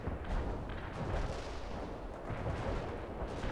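Precision artillery barrage in the video game World in Conflict: a dense, continuous rumble of overlapping shell impacts and booms rolls steadily for several seconds at moderate loudness, with no pause between hits.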